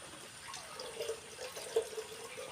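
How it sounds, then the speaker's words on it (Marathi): Tap water trickles steadily through a cloth-mesh filter into a container in a Konkan village home, a soft, fairly faint running flow with a few small splashing drips and no talking. "पाणी असं गालून भरून घ्यावं लागतं."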